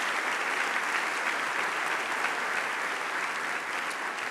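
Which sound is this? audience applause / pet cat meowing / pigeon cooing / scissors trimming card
audience applause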